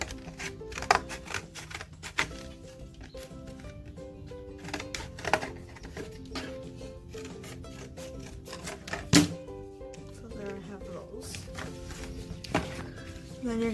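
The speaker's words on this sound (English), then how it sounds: "And then I'm gonna go in and cut that shape out." Scissors snip a shape from folded material for a water bottle rocket craft, giving scattered sharp cuts and crinkles over quiet background music.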